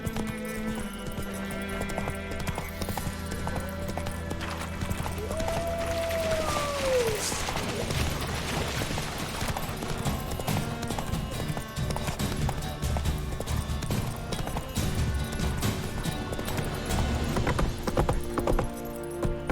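Horse hooves clip-clop in a steady rhythm in The Witcher 3, carrying on at a moderate level over a quiet game soundscape with a brief rising tonal cry early on.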